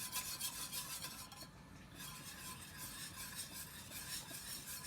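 Parmesan cheese being stirred into a pot on the stove, giving a steady scraping, rasping stir over a soft sizzle, close and continuous without speech.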